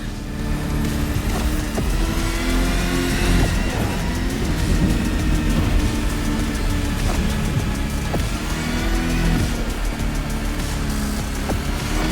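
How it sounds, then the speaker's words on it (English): A power truck engine in The Crew Motorfest roars steadily as it races through a volcano, a dense, continuous drone that stays loud and close throughout with no talking. "You're racing a power truck smack in the middle of a volcano"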